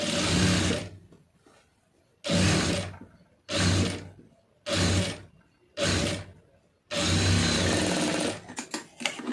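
A sewing machine stitches the lining of a blouse in six loud, close bursts of rapid whirring, each lasting about a second, separated by short quiet pauses.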